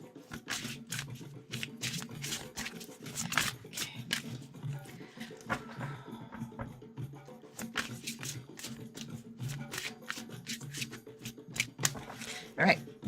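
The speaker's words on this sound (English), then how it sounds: "All right, I'm going to stop shuffling." An oracle card deck is shuffled by hand close to the microphone, producing irregular bursts of riffling, flicking card sounds with short pauses, while a voice talks at intervals.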